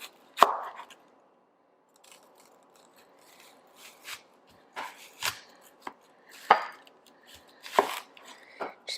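A knife slicing ingredients thinly on a cutting board for bistek tagalog, with irregular crisp chops and board knocks spaced a second or so apart, close and clear against near silence.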